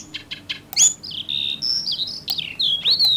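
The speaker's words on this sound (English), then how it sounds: "We need to add just a little bit of bird noise." Bird chirps added to a song: a quick run of bright, close tweets and whistled calls follows a few short clicks, clear and fairly loud with no talking.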